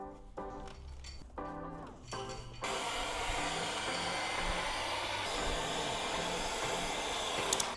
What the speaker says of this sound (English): Let's get the heat gun on it.